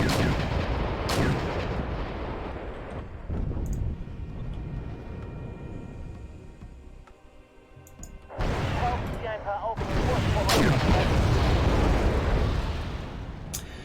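Gunfire and heavy artillery-style blasts in the video game Wargame European Escalation, loud booming bursts in two dense clusters separated by a quieter rumbling stretch, with a player talking over the battle.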